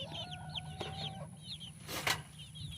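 Chickens cluck and chirp softly in short repeated calls, a little distant, with a brief rustling noise near the end.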